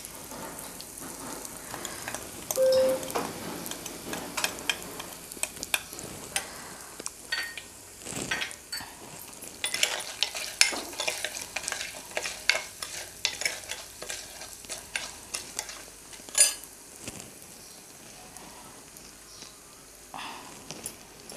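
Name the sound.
tempering spices frying with asafoetida for tamarind rasam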